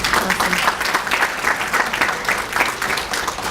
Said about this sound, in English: a big round of applause for everybody